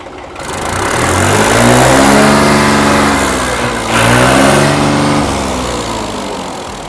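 A modified tractor engine fitted with a mesh silencer revs up and holds high, eases off, then revs again, loud and close with no talk.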